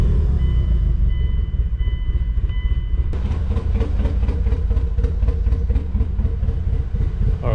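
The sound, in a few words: Mitsubishi EVO engine running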